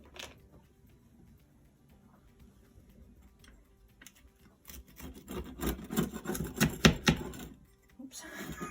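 A pizza wheel or sharp knife rolls and scrapes through a freshly baked hot pizza, starting with faint rasping and building to loud, repeated crunchy cutting strokes against the pan or board.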